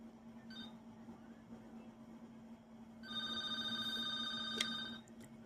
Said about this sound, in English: And you see the phone is ringing now.